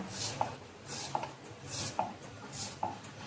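Onion being finely chopped with a knife on a board: four evenly spaced, quiet knife strikes, each preceded by a soft slicing swish, close and alone.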